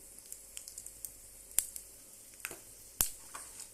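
Dried red chillies and asafoetida sizzling in hot oil with fenugreek, a quiet, steady crackle dotted with small pops and a couple of sharper spits.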